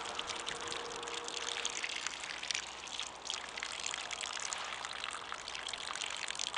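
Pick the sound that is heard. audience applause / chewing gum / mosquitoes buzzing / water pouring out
water pouring out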